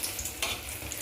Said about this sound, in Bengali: বেগুনটা লাল লাল করে সুন্দর করে ভাজা হয়েই গেছে